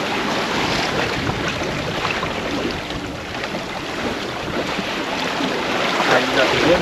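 Sailboat turning through its first jibe, with continuous rushing wind and splashing water along the hull, loud, broadband and steady throughout, wind buffeting the microphone.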